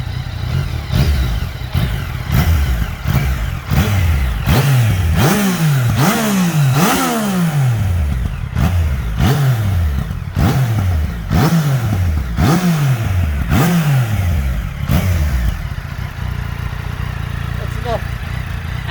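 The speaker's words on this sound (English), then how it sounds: "let's hear this bike" A Yamaha Tracer 900GT motorcycle engine is revved repeatedly in loud, close bursts, each rising and falling in pitch, with a rumbling idle between them and a lighter rev pattern near the end.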